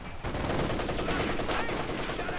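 Dense, continuous machine gun fire from a Company of Heroes 2 match, an MG firing from inside a building, a loud unbroken rattle of gunshots filling the whole stretch with faint speech underneath.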